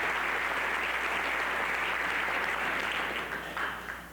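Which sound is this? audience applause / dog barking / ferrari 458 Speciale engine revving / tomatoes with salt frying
audience applause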